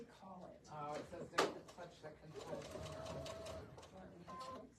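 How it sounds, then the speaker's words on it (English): A home sewing machine stitches a quilt block along a marked line, its motor humming steadily at moderate distance with a sharp clack partway through, and a faint voice behind it. "And again, you're stitching on the line."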